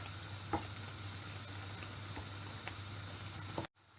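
Cajun prawns sizzle in a pan with a steady frying hiss and occasional clicks and taps as they are turned, heard up close and alone.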